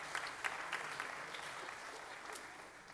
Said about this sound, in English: you can clap for these two